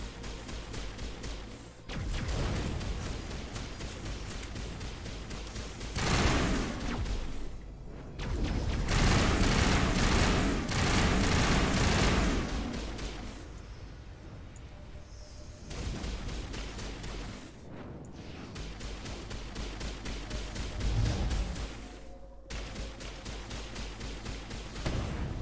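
Sustained sci-fi gunfire from a Mass Effect Legendary Edition battle at the Citadel, loud bursts of rapid shots with booming impacts rising and falling over about 25 seconds, no talking.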